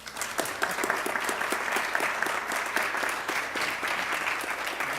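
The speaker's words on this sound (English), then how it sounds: "And now we applaud." Sustained applause from an audience at a Lakewood city council meeting, steady dense clapping throughout at a consistent level with no talking.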